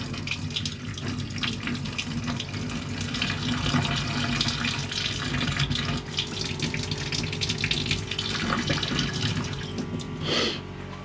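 A sailboat's water maker pump pulls water through its lines, a steady gurgling, running-water wash with faint clicks throughout, ending in a brief louder surge near the end.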